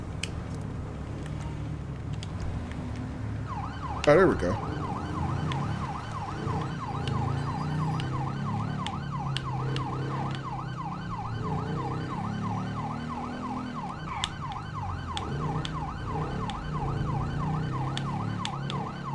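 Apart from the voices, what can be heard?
police motorcycle siren in GTA V LSPDFR video game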